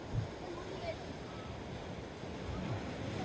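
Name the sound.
big ocean waves at the shore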